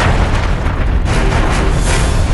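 A nuclear bomb explosion sound effect gives a loud, sustained, roaring boom that fills the whole span with dense low rumble and blast noise, heard alone without speech.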